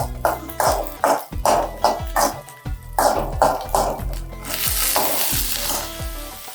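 Onions, ginger and curry leaves sauté in a pan with a steady sizzle, broken by repeated rhythmic scrapes of a spoon stirring. The sizzle swells louder toward the end.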